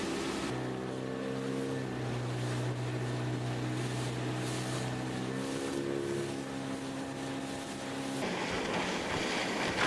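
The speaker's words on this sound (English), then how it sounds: "this great little boat to whiz us to the fishing ground" A small fishing boat's motor drones steadily with a low hum off the Gold Coast, water rushing beneath, the pitch shifting partway through as it speeds along.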